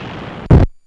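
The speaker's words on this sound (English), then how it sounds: "Watch this explosion." A single sharp, loud explosion from aerial combat over WWII bombers, a short booming blast that cuts abruptly to silence after a steady engine drone.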